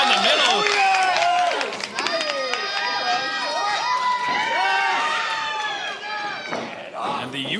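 A big Thursday night wrestling crowd at an LPW x CWS live event cheers and shouts loudly and without a break, with voices rising and falling across the arena under excited commentary.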